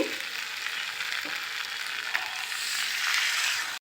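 Water poured into a pan of vegetables frying with spices sets off a loud, steady sizzling hiss that swells toward the end and then cuts off abruptly, with no talking.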